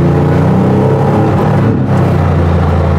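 Sportec Porsche 964 RSR restomod race car driving on a country road, a loud steady engine drone with strong low rumble held throughout, no voices.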